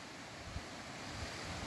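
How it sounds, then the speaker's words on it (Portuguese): A waterfall passes close by at a rural farm in the morning, giving a soft, continuous broadband rush of falling water with a faint windy texture, steady and unbroken with no voices. "esse barulho aqui é o barulho da cachoeira"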